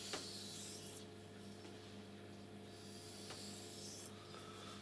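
A knife blade is rubbed over 600 grit sandpaper in a steady, faint scraping rasp that continues without a break, with a few slightly sharper strokes along the way.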